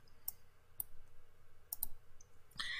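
Computer mouse clicks while working in 3ds Max with V-Ray, a handful of faint, crisp, irregularly spaced clicks close by over quiet room tone.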